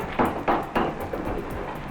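Ceremonial hammer blows on stone in the hand building of a traditional bread oven, several sharp knocks roughly a quarter second apart, followed by softer tapping, with no talk.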